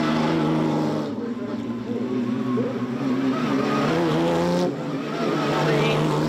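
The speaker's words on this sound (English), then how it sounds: "Porsche safety car." A Porsche safety car runs on the Laguna Seca racetrack, its engine a steady, loud drone that rises and falls in pitch while a commentator's voice sits on top throughout.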